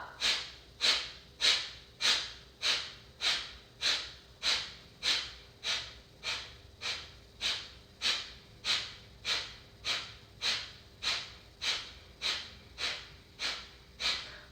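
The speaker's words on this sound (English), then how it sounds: "Take a big breath, inhale, and pump." Rapid, rhythmic pumping breaths during a yoga breathing exercise, about twenty-two sharp, evenly spaced breath bursts in steady succession, close and clear with no talking.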